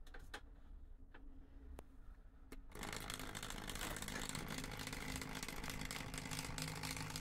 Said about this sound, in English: Let's try the engine in reverse.